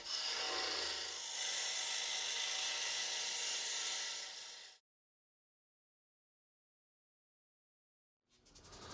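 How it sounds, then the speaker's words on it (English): A fine-tooth saw rasps steadily through wood for several seconds, parting a turned box from its waste on a lathe, then falls silent before faint sawing starts again. "Part from the waste using a parting tool and fine tooth saw as before."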